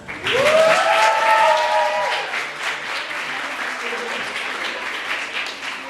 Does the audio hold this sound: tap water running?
no